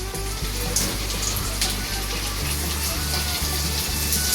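Potatoes fry lightly in a pan in a home kitchen, giving a steady, loud sizzle with a constant low hum underneath.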